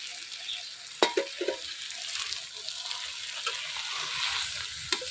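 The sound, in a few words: small fish chorchori frying and being stirred in a pan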